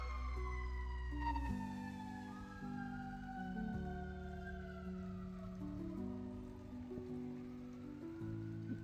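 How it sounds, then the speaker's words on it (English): Emergency vehicle sirens pass along a nearby road during steady rain, their rising and falling wails loud and close over the constant patter of rainfall. "Do you hear all those sirens?"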